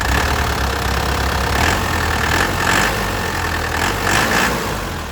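A 2010 Isuzu Panther LS turbo diesel engine idles close by, a steady low rumble with a faint rhythmic knock throughout.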